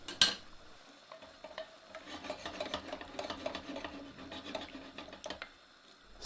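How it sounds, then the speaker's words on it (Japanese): Cut tripe tipped back into a pot after white wine has been cooked off, then stirred: steady scraping, rasping and rubbing strokes close by, with a faint sizzle underneath and no talk. "白ワインのアルコール分がきっちり飛んだところで先ほど切ったトリップを鍋に戻します。"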